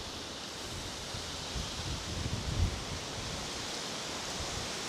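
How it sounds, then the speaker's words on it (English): Steady wind blowing through a garden in summer, a broad continuous rush with a slight gust swelling near the middle, close to the microphone and with no voices. "It's quite windy."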